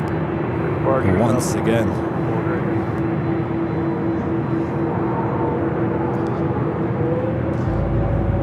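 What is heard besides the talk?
airplane taking off from LAX runway 24 left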